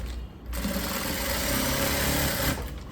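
A sewing machine runs a steady stitch over folded blouse pleats, a close, continuous whirring buzz that starts abruptly and stops after about two seconds.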